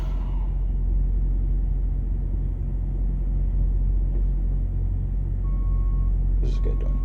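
Heavy trucks idle and rumble in a truck parking lot, a loud, constant low engine drone throughout, joined late by a faint electronic beep and a brief hiss near the end.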